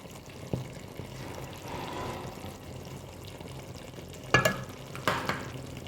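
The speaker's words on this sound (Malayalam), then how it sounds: "വെളിച്ചെണ്ണ വെളിച്ചെണ്ണയാണ് നല്ലത് ഓയിൽ ഇച്ചിരി ഇങ്ങോട്ട് ഒഴിച്ചു കൊടുക്കുക" Coconut oil poured over a simmering Kerala aviyal, a soft sizzle and stir building into two brief sharp splashes and crackles near the end, close and fairly quiet.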